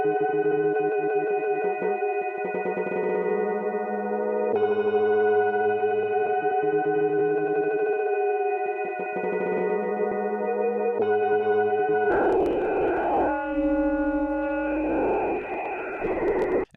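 Ableton Live's Texture warp mode processing a sustained tonal musical sample, with the flux setting applied and the grain size turned down to 2. The tone comes out smeared, chorused and warbling in changing chord blocks, then turns grittier and choppier near the end.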